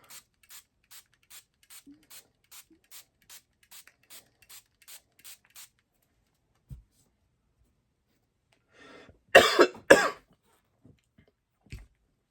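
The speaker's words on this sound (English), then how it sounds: "So spray this pad, spray the scuff mark remover." Scuff mark remover sprayed onto a bowling ball cleaning pad, a quick series of short, crisp spray pumps in even rhythm, then quiet, followed by a couple of louder bursts of handling noise.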